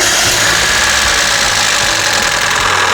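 A Mazda MX5 Miata engine runs loud and close, a steady rough mechanical churn with a knocking edge, heard right after starting and continuing without talk.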